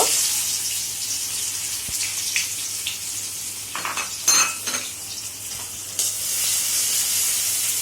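Onions for a fish kebab drop into hot oil, bringing a steady close sizzle and a brief burst of crackling and stirring clatter in the middle, with no voices.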